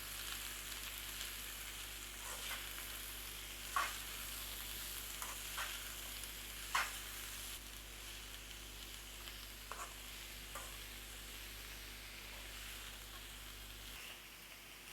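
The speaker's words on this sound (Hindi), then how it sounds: "अभी मैं और 5 मिनट्स में फ्राई करेंगे।" Radish greens saag frying in a pan makes a quiet, even hiss, with a few faint spatula taps scattered through a soft, distant-sounding cook.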